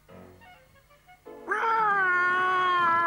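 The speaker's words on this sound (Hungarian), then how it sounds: "Jaj, ez az ostoba macska!" A cartoon cat in a Smurfs episode gives a long, loud, drawn-out meow that begins halfway through, after quieter background sounds.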